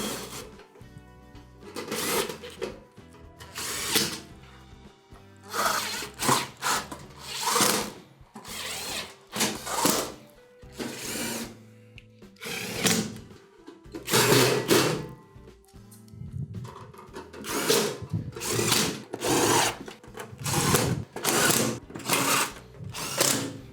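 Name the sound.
power drill driving 1/4 inch screws into oven back panel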